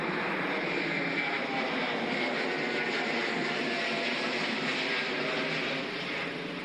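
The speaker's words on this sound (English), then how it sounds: "We've got a plane taking off." A plane taking off from Manchester Airport roars steadily overhead, a broad continuous rumble and hiss that holds loud throughout and eases slightly at the end, with no talking.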